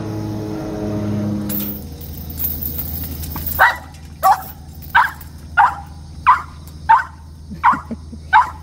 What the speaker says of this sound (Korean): 내리가 짖든 말든 얌전이는 발라당합니다